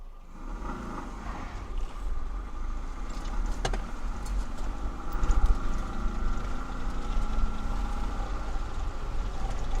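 A 1983 Mazda B2000 pickup truck, parked for 29 years, drives in second gear, its engine giving a steady close rumble with road and wind noise and a brief rattle, swelling slightly midway.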